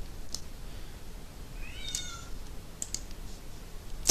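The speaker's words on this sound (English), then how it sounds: "I can hear my cat wanting some food." A house cat meows once for food, a short, faint cry in the middle of a quiet room, with a few light keyboard or mouse clicks around it.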